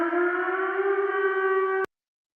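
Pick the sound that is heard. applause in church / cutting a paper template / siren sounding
siren sounding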